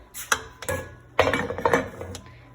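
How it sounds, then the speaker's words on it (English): Metal baking trays of brownies set down on a stove, giving two clanking, rattling metal contacts with clinks, close and fairly loud, no talk. "So I'm gonna put both of my trays on the stove."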